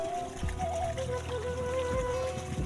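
A river stream trickles and gurgles through a bamboo forest in Mekarsari village, Bojong, a steady low babble of moving water with faint tonal chirps above it, moderately quiet and without speech.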